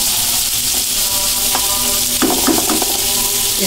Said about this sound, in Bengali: চিংড়ি মাছটা ভেজে নেবো একটু